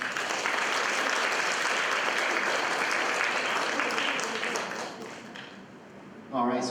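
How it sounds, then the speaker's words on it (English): Audience applause as a senior pupil walks onto the stage at a school panel, a dense sustained wash of clapping that fades near the end before a short burst of sound. "Please give him a round of applause as he comes out."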